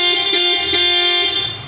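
A Paquerinha dual car horn fitted to a VW Nivus Highline sounds one sustained, loud, close two-tone blare with bright harmonic layers, lasting nearly two seconds with no pause.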